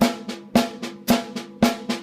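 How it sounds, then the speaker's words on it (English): Drums play an even on-beat eighth-note pattern on hi-hat, with sharp accented hits alternating with softer strokes in a steady, moderately quick rhythm. "So on beats would sound like this."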